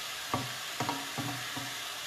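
Beef frying in a pan for a Tunisian qlaya, a soft continuous sizzle broken by four distinct spatula scrapes and knocks at an even pace, with no talking.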